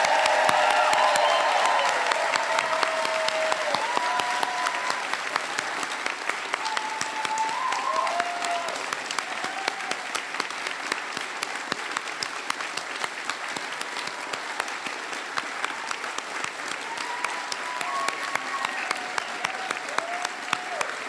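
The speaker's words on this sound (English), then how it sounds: "join me in another round of applause for the newest alumni of NBCCD" Sustained applause from a convocation audience honoring the newly graduated class of NBCCD, a dense steady clatter of many hands lasting about twenty seconds, loudest at the start and easing slightly, with faint tonal music or voices drifting underneath.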